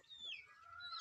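Village chickens kept in a backyard flock give a brief, faint burst of clucking and squawks at a distance, with no talking.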